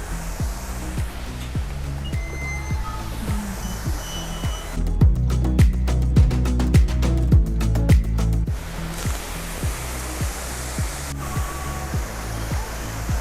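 Waterfall beside a farmhouse ticket area, a constant close, loud rushing roar, with a steady rhythmic mechanical clicking running throughout and a denser stretch in the middle.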